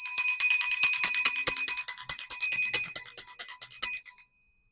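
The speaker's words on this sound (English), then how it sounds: "We're going to take my mom's bell to clear the energy." A small brass hand bell rings rapidly and continuously for about four seconds, bright and close, then stops abruptly into silence.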